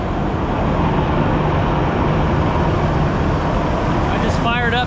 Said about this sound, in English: I just fired up the 470 here